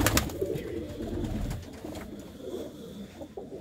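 Several pigeons coo softly at close range in a pigeon loft, low murmuring calls running through the whole stretch with some rustling.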